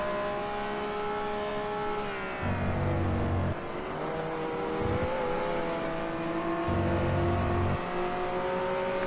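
An Abarth race car in GT Legends runs its engine hard, a strong droning whine rising and falling through gear changes, with bursts of low rumble between shifts and no voices.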